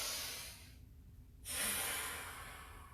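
A person takes a slow breath in through the nose during an exercise routine, a soft close inhale that swells, pauses and returns, quiet and alone.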